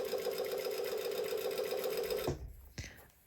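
Home sewing machine running a steady, close, fast whirring top stitch for about two seconds, then stopping, followed by a couple of faint handling clicks.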